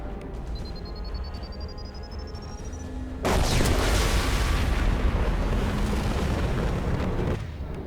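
A large explosion in Mass Effect 2 bursts in suddenly after a quieter stretch of game ambience, then roars on as a sustained, loud rumbling blast before easing off near the end.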